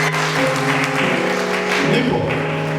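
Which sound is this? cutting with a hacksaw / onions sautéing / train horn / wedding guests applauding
wedding guests applauding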